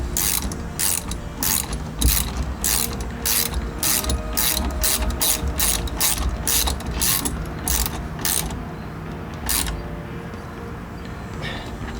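A Crescent ratchet wrench tightens a nut onto a washer on a 1988 Jeep Cherokee XJ, giving rapid, crisp, close clicking bursts in a steady rhythm that pause briefly near the end.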